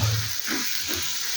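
Semolina roasting in ghee for suji halwa gives a soft, steady sizzle and hiss, close and continuous with faint stirring underneath.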